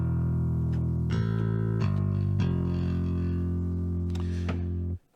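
Submission Audio's Aerobase 3 virtual bass plays a few sustained low notes with a gritty, distorted tone and a buzzy upper edge, changing pitch a few times before cutting off abruptly.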